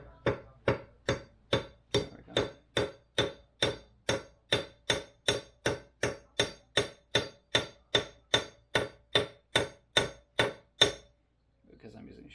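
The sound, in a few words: tapping with a sheet metal hammer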